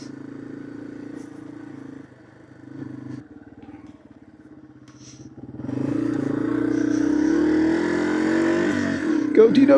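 A Yamaha TW200 trail motorcycle idles low and uneven, then revs and pulls away over broken volcanic rock, the engine note rising and staying loud and close.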